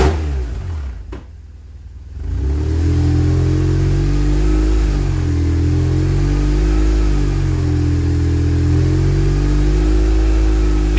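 A BMW R 1150 GS motorcycle engine revs up after a brief dip, then holds a loud, steady 3000 rpm with slow wavering in pitch, close by.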